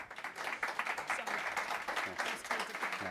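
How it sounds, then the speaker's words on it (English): Conference audience applauding after a technical talk, a steady wash of clapping across the room lasting the whole stretch, moderately loud with no voice over it. "another round of applause,"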